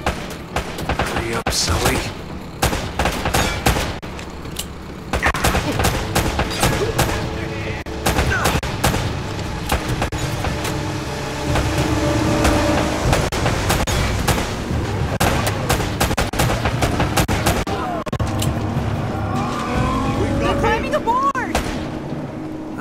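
Gunfire from a firefight in the PS3 action game Uncharted: Drake's Fortune crackles in rapid shots and automatic bursts, loud and near, continuing steadily with short gaps while a man calls out amid the shooting.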